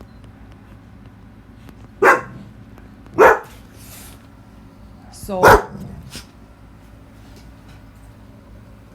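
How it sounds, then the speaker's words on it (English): A dog barks indoors in the background at home, three separate sharp barks spaced a second or more apart with the last one loudest, over a low steady hum and a quiet voice. "my dog is barking."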